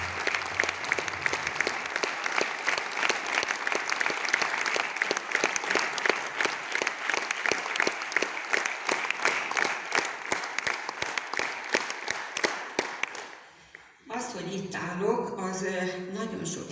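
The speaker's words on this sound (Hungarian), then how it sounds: "Pontosan erre a meleg hangulatú, szeretetteljes tapsra vágyottam, amit ott nem kaptam meg." Warm, sustained audience applause at a ceremony honouring a new honorary citizen, an enamel artist, with dense rhythmic clapping that thins out before a voice begins speaking.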